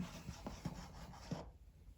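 Faint, soft rubbing strokes on model railroad track as dirty spots are cleaned, a handful of brief scuffs in an uneven rhythm that stop abruptly, quiet and close.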